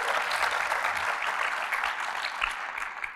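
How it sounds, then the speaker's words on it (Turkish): A studio audience claps steadily in a thick wash of applause, loud at first and gradually tapering off toward the end, with no speech on top. "alkış gelmişken"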